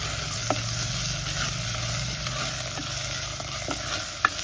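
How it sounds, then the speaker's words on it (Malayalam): Onion, tomato, green chilies and curry leaves sauté in a clay pot, giving a steady close sizzle with a few faint clicks of stirring throughout, no voices. "ഈ തക്കാളിയും അതേപോലെ രണ്ട് പച്ചമുളകും കുറച്ച് കറിവേപ്പില കേട്ടോ ഇതെല്ലാം ഒന്ന് ഇട്ട് കൊടുക്കാം ഇത് നല്ലോണം വാട്ടാം"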